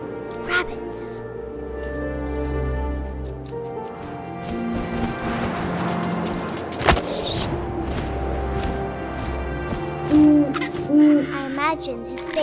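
An owl in the video game What Remains of Edith Finch gives two distinct hoots near the end, over a bed of ambient game sound and a speaking voice.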